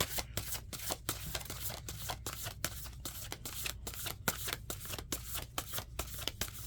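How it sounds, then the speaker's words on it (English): Tarot cards shuffled by hand in quick, rhythmic riffling bursts, close and fairly quiet, with soft card slaps between, no talking. "So let me pull some of these other cards."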